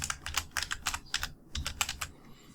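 Rapid keystrokes on a computer keyboard, a close, steady run of clicking taps with a brief pause midway, alone without talk.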